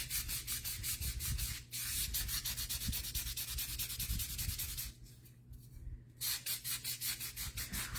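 Steady back-and-forth rubbing of a nail buffer sponge sanding a homemade Christmas countdown ornament, close and even in rhythm, with a brief pause partway through before the scrubbing resumes.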